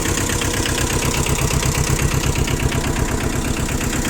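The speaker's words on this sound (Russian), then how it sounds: "трактор сам по себе работает ровно" A two-cylinder Yanmar Japanese minitractor with a rotary tiller idles steadily and loudly up close, a continuous rumbling drone with a rapid, even pulse and some rattling vibration.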